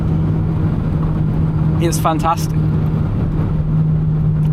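A BMW Z3 roadster's engine drones steadily from inside the cabin while driving, a low continuous hum, with someone speaking briefly over it partway through.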